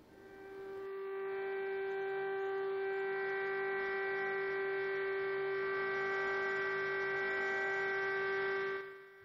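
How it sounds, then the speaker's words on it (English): A civil defence siren in China wails as a single steady sustained tone for COVID-19 mourning, rising in at the start and holding loud and unbroken for several seconds, with no talk over it. "Sirens ring out for those who have died from COVID-19."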